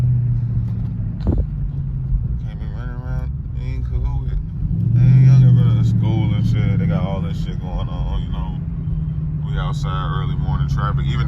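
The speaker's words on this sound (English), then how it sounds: "Outside early morning traffic." Road traffic outside in the early morning, a steady low engine rumble from passing cars that swells briefly midway, with someone talking over it throughout.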